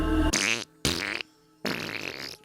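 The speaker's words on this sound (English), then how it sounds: "What, it's just fart sounds?" Three loud, close fart sounds in a movie, each a drawn-out buzzing blast separated by brief silences, with no voices.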